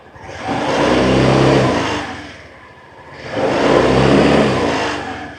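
Two throttle blips from a 2024 Yamaha Grand Filano Hybrid scooter, each a loud, close rev that rises, holds for about a second and falls back toward idle, with a short dip between them.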